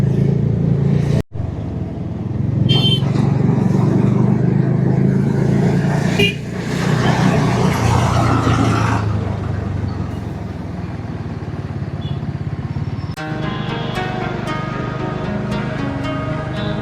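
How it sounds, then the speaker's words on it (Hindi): Road traffic on the Agra Expressway, heard from a Bajaj Dominar 400 motorcycle on a Varanasi to Delhi ride: a loud, steady roar of wind and engine with passing vehicles, one sharp break early on and a brief rise near the end. "इतना ट्रैफिक है भाई इस एक्सप्रेसवे पर आने जाने के लिए।"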